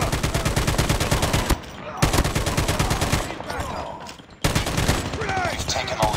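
Rapid automatic gunfire in Call of Duty multiplayer, loud and close, in long sustained bursts broken by two short pauses.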